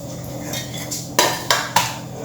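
Chopped onion, ginger, garlic, spices and sugar for a Goan green coriander chutney being tipped into a mixer jar, three sharp clinks against the jar after softer shuffling, close and clear.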